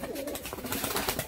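Tumbler pigeons coo nearby, a soft, throaty, rolling call repeated over a second or so, close and clear with no talk over it.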